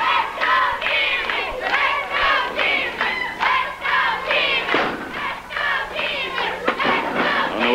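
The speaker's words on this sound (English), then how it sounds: "Let's go, Jimmy, says the cheering section" A wrestling arena crowd in 1970s Memphis chants and cheers in loud, rhythmic bursts for a wrestler, a dense roar of many voices with occasional thuds underneath.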